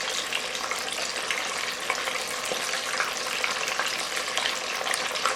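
Corn deep frying in hot oil, a steady dense sizzle and crackle that runs unbroken and fairly close throughout, with no talking.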